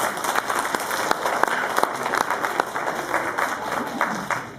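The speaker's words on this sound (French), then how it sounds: "Vous pouvez tous vous applaudir par la même occasion" Audience applauding at a Christmas-tree event in Alençon, steady crowd clapping with sharp individual claps standing out, sustained for several seconds before tapering off.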